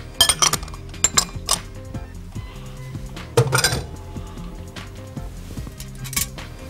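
Clinks of a utensil against a small bowl while a sauce of soy sauce, a dash of vinegar and brown sugar is stirred together; sharp taps cluster early and again midway over a low, steady background hum.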